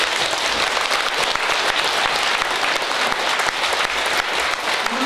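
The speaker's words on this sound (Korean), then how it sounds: "여러분을 위해 박수 주세요." A large assembly at Geumsansa temple's anniversary ceremony breaks into loud, sustained applause, dense and continuous throughout with no pause.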